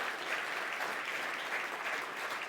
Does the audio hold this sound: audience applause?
yes